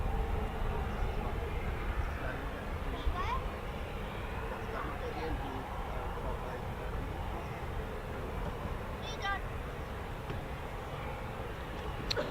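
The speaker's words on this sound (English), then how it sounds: "I think it's the world's first ever production tilt rotor aircraft with one 3-bladed prop rotor" Osprey tilt-rotor aircraft with three-bladed prop-rotors taxiing at RAF Mildenhall, a steady distant engine drone and rumble heard under someone talking.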